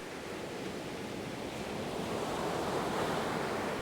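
Ocean surf at a beach rolls on as a steady broadband wash that swells slightly louder toward the end, with wind rumbling faintly underneath and no voices.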